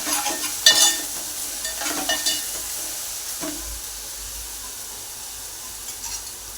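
Ginger garlic paste sautés in a pan with a continuous hiss, and a few stirring scrapes near the start fade into a steady, quieter sizzle.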